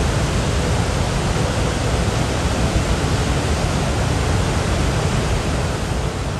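A loud, unbroken roar of rushing water from a large waterfall heard up close, steady and dense with no other sounds.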